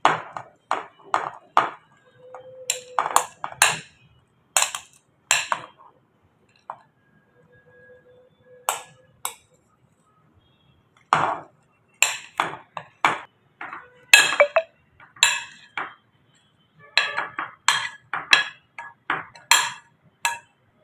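Dried fruits dropped one by one into a glass jar for soaking fruit cake fruits, producing a long series of bright, sharp clinks and pings in irregular clusters with short pauses between, close and fairly loud.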